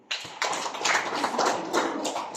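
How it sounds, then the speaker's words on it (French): A French class applauds a student newly elected president of the French club, a short burst of indoor clapping from a small group that starts abruptly and holds steady. "applaudissez pour lui."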